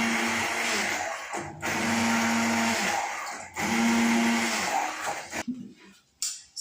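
An electric blender whirs loudly through cooked strawberries for jam in three bursts separated by brief pauses, ending with clicks and clatter as it stops.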